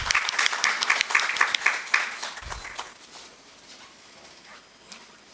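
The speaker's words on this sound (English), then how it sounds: "A big round of applause, please." An audience at a higher education leadership event gives a round of applause for a speaker, dense clapping at first that thins out and fades over the last few seconds.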